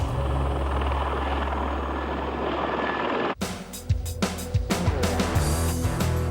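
A helicopter's rotor thumps steadily and loudly nearby, its engine roaring continuously, then the scene cuts to a sharper, rhythmic chopping beat.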